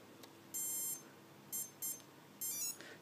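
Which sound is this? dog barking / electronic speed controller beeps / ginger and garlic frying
electronic speed controller beeps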